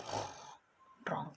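A voice imitates snoring for a Spanish children's story, one breathy rasping snore, a short quiet gap, then the start of a second, close and soft.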